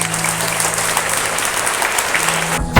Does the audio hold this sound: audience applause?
yes